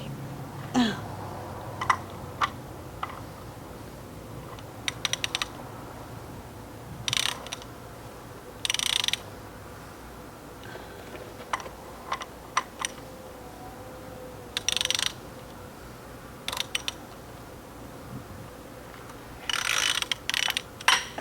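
A ratchet wrench clicks in short bursts of rapid pawl ticks while unscrewing a part during tractor maintenance, close and crisp, separated by quiet pauses.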